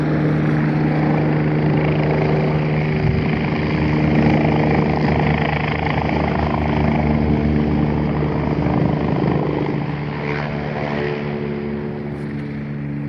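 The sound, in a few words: helicopter flying overhead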